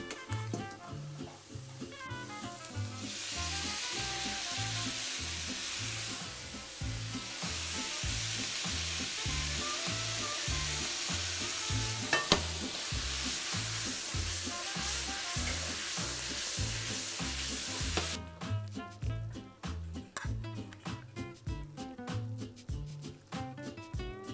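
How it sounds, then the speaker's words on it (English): Chicken and sauce for General Tso's chicken sizzle steadily and loudly in a hot pan, a continuous hiss with rhythmic stirring and scraping throughout. "when it goes in, it'll get even the sauce sizzling"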